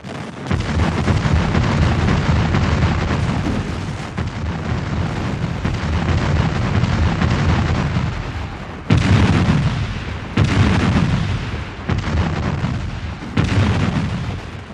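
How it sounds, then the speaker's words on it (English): Heavy cannon fire booms continuously at a Gettysburg battle re-enactment, loud and close, with several sharper blasts punching through near the end. "The artillery duel continued unabated, but Pickett's troops, positioned behind the"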